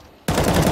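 Rapid automatic gunfire from the video game CS:GO bursts in abruptly after a brief quiet moment, loud and continuous through the rest of the short stretch.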